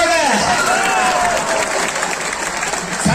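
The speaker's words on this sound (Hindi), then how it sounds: "जोर से ताली बजाओ, बढ़िया बढ़िया ताली" Audience at a wellness centre inauguration applauding loudly and continuously throughout, the clapping mixed with a voice speaking over it.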